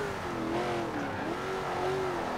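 A car in Forza Horizon 4 accelerates hard out of a hairpin, its engine note climbing and shifting in loud, steady revving with gliding pitch changes and no break.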